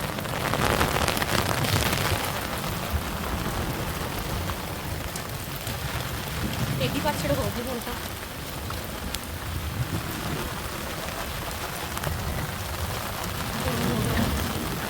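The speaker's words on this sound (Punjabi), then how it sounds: "ਰੱਬ ਮਿਹਰਬਾਨ ਹੋਇਆ ਮੀਂਹ ਪਾਇਆ" The first monsoon rain of the Sawan month hisses down steadily as a dense, even wash that fills the whole stretch, with a person speaking briefly over it.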